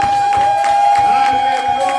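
Church congregation applauding together, a dense rhythmic clapping with steady beats, under a constant sustained tone from the sound system.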